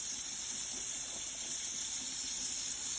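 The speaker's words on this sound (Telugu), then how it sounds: "ఇప్పుడు మనం బెండకాయ వేసాం" Okra pieces frying in a pan give off a steady, even hiss of steam and sizzle, constant and fairly close throughout, with no voices.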